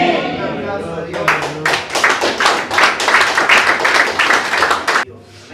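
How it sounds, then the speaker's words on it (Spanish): A church congregation breaks into sustained applause during a Spanish-language service, loud, dense clapping filling the room for several seconds before stopping abruptly, with voices mixed in. "Un aplauso a Dios."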